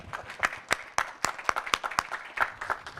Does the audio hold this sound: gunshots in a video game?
no